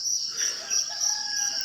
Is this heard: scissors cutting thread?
no